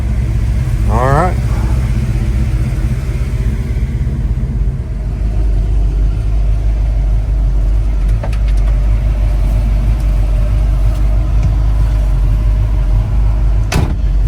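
A Chevrolet Malibu drag car rolls up the road, its loud, steady, low engine rumble continuing throughout with a few knocks and rattles, while people talk over it.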